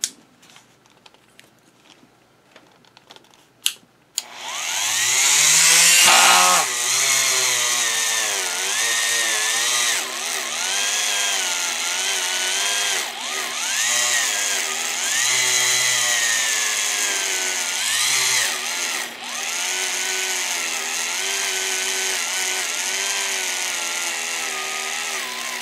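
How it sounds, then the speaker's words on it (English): A rotary tool fitted with a stainless steel wire brush scrubs grime from the teeth of a rack on a Singer 285J sewing machine. A high, steady whine starts after a few faint clicks, then wavers as the brush presses and lifts. "I'm going to use a rotary tool with a stainless steel wire brush to get the schmoo out of here."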